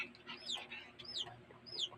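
A chick gives three high, thin peeping chirps at close range, spaced evenly across a quiet background with low household hum.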